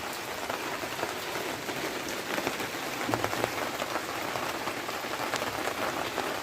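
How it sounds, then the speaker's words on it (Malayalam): Heavy rain pours down steadily and close by, a dense, even hiss of drops on surfaces that never lets up and has no voices over it. "ഇനി മഴയാണ് കേട്ടോ, ഭയങ്കര മഴയാണ്"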